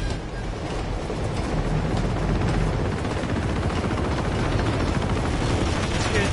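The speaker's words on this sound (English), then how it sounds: "Hate helicopters!" Heavy combat din from the video game Uncharted 2 as a helicopter attacks, a loud continuous rumble and rattle with dense gunfire-like crackle filling the whole stretch, no voices.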